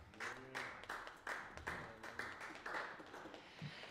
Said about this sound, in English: a round of applause is deserved for, uh, for Mr. Larry Kohut on the bass